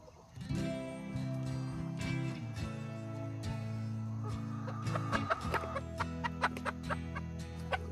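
Backyard chickens cluck and chatter close by during morning chores, a busy run of short, overlapping clucks and calls that grows livelier toward the end, with no talk over them.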